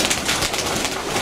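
Pigeons coo softly in a loft during the morning feeding, a steady low burbling with overlapping calls that sounds fairly close. No one speaks and there is no other sound.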